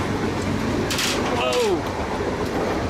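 An Indian sleeper train rumbles along with a steady low clatter, a brief screech rising partway through and a voice exclaiming over the noise.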